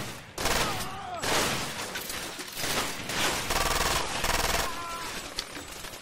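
Heavy enemy gunfire in Far Cry 2, dense bursts of automatic shots and volleys crackling loudly and nearly nonstop throughout, with a voice briefly heard beneath the battle.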